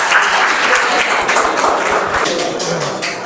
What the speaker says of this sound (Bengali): ওর জন্য একটা জোরদার তালি